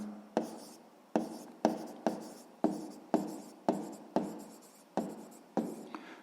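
Pen strokes on paper as an answer is written by hand: about a dozen short, crisp scratching strokes in a steady, close rhythm, quiet and alone, with no talk.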